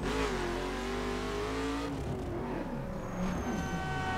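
A car engine revs and shifts pitch while driving through a city in the open-world racing game The Crew, with a loud, steady drone rising and falling across gear changes and no voices.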